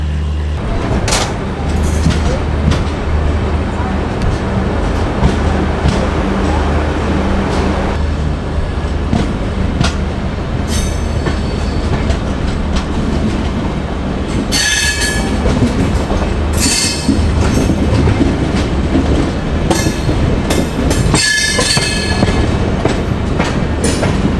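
An Ashram Express train in first-class AC rolls along the rails with a loud, steady rumble, a rhythmic clickety-clack of wheels and occasional metallic squeals, continuous throughout.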